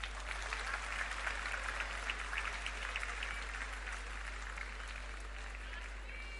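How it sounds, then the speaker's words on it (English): An audience at a convocation ceremony applauds steadily, a continuous wash of clapping in a large hall over a constant low hum, even and unbroken throughout. "Please clap, all of you"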